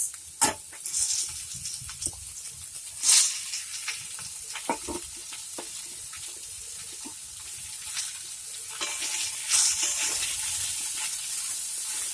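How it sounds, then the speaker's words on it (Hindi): Chopped bottle gourd (ghiya) is stirred and fried in a pan, a soft, continuous sizzle marked by irregular scraping and clinking strokes, a few louder bursts, and no talking. "इसमें हम घिया डाल के इसे मिला के ढक के पकाएंगे"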